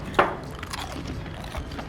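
Crunchy toffee coffee popcorn clusters are bitten with one sharp crackle, then chewed close up in softer, irregular crunches, with no talking.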